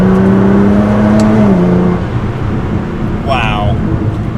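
A tuned Nissan GT-R accelerates hard, its engine pitch rising loudly then shifting as it changes gear, with a person talking over the roar partway through.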